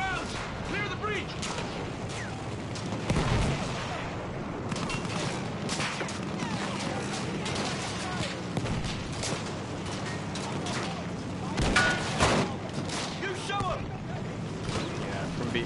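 A Battlefield 1 battle with steady rifle and machine-gun fire and heavy artillery rounds booming at intervals, loud and close, while voices shout over the noise.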